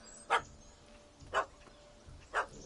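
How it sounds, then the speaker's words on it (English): Small yappy dog in The Witcher 3: Wild Hunt barking three times in short, evenly spaced sharp yaps at moderate distance, with quiet ambient background between barks and no talking. "Don't know how to handle yappy little dogs?"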